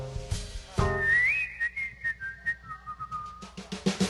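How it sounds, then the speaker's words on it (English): A person whistles a light melodic tune at a jazz quintet performance, a sustained wavering whistle line near and clear over soft rhythmic band accompaniment. "I'd whistle a little tune"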